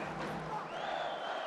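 Arena crowd cheering and roaring for Kazakh boxer Birzhan Zhakypov at a men's light flyweight boxing final, a steady, dense wash of many voices filling the hall throughout.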